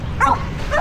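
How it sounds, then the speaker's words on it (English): A dog on a surfboard in the Philippines gives two short yipping barks, near and clear over a low background of wind and surf. "he's barking the whole time"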